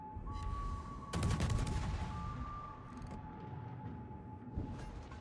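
Ship guns open fire from a Kleber Tier 10 French destroyer in the naval video game World of Warships: one loud rolling salvo of booms, then fainter, scattered reports over a steady tone.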